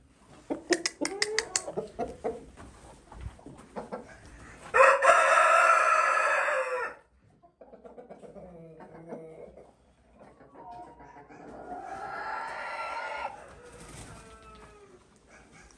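A yellow-black Columbian Brahma rooster, a county champion, crows loudly twice among his four hens, with softer clucks and scattered bird calls around it.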